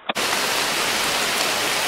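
Heavy rain pours down outdoors at a muddy summer camp in the evening, a dense, loud, unbroken hiss that starts abruptly after a brief moment and continues alone.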